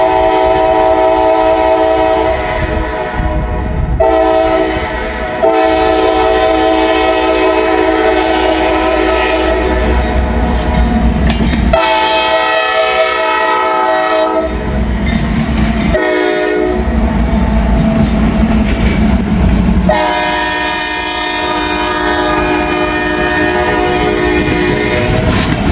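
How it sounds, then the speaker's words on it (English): A CSX freight train rumbles past by a river, loud and close, its horn sounding in long repeated blasts over the continuous roll and clatter of the cars. "got a CSX train coming"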